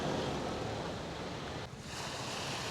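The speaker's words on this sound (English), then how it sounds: "This is the southern end of Wong Amat Beach." Surf washing ashore at the southern end of Wong Amat Beach in Pattaya, a steady broadband roar of waves with wind noise on the microphone, briefly dipping before swelling again.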